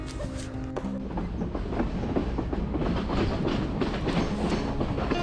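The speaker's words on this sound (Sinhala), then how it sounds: "ඉතින් ඔන්නම අපි කොටුවෙන් 8:30ට තියෙන බදුල ට්‍රේන් එකේ නැගලා යන ගමන් තමයි ඉන්නේ" Aboard the 8:30 Badulla train out of Colombo Fort, a loud, close rumble of the carriage runs on with steady rhythmic clacking of wheels over rail joints and no talk.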